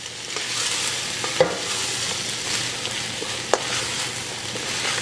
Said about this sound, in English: We're going to add our beans back in. Make sure everything gets all nice and stirred around.